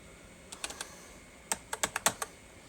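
Keys clack on the keyboard of a 1987 Acer 500+ XT computer, first four quick taps, a short pause, then a faster burst of about six sharp, close keystrokes.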